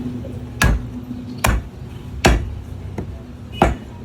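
Blade chopping into knuckles with four loud, sharp thuds at uneven intervals of roughly a second, each a short hard impact over a low background hum.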